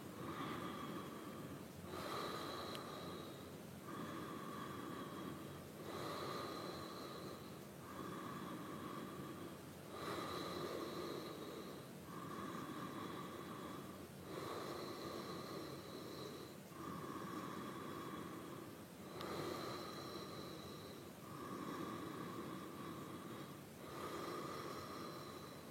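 Slow, deep breaths during a yoga posture repeat in a steady rhythm, each inhale and exhale audible as a soft, breathy rush at close range, with no talking.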